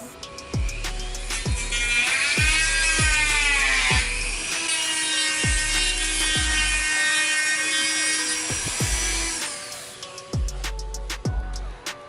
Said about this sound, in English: we got the Dremel still on, so we're just gonna shave it down